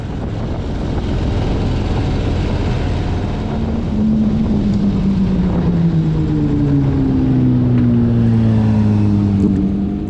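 Cars driving together in a memorial convoy produce a loud, steady engine and road roar with heavy wind rumble, and rising and falling engine tones from nearby vehicles pass by.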